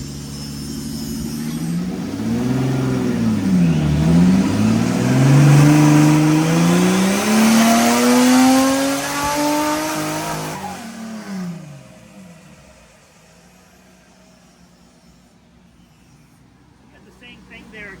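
Turbo Honda-powered sand car on a dyno in third gear, its engine loud and close, climbing steadily in pitch through a long pull of about ten seconds before cutting off to quiet, with talk in the background.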